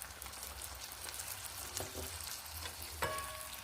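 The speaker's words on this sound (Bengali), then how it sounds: "এটা দিয়েও একটু নেড়ে চেড়ে একটু কষে নেব" Sesame paste ground with green chilli sizzles and fries in a pan in a village kitchen, a steady dense crackle with scattered scraping stirs and one sharper clink of the utensil against the pan.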